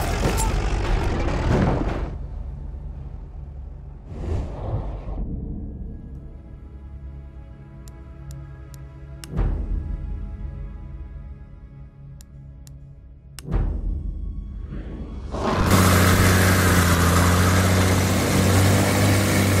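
A tank engine rumbles low in the Battlefield 1 war game, a steady heavy drone with louder surges near the start and end, broken by a few sharp impacts in between.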